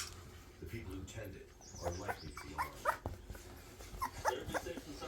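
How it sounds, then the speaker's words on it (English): Nearly four-week-old American Bully puppies whimpering and yelping in a room with the litter, a series of short high cries growing busier after the first two seconds, with faint background noise. "we're in another room with the other litter of puppies"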